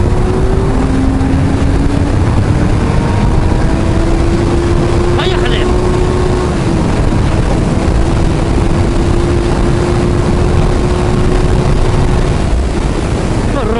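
A Kawasaki Z1000SX motorcycle engine drones steadily while riding, its pitch rising slowly through the run, with heavy wind rush over the microphone and a brief voice breaking in partway through.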